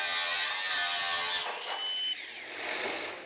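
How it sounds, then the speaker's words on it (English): An angle grinder cuts a piece off the back wall panel of a swimming arena frame, a high, bright whining grind that shifts in tone as the disc bites, loud and close for a few seconds. "workman Luciano cuts a piece of the back wall off with an angle grinder"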